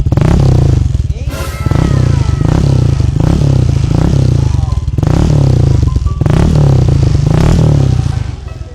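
A Honda Click 150 scooter runs with its silencer removed, its harsh, raspy engine roaring loud and close and revving up in repeated surges with rattly crackle, no talking.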